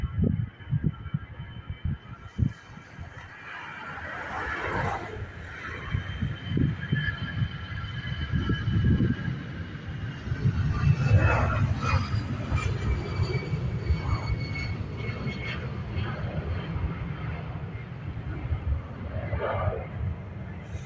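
Airliner EI636 departs Dublin Airport for Brussels with a loud, sustained broadband jet roar and faint shifting engine tones that swell and hold for the whole stretch, heard from outdoors.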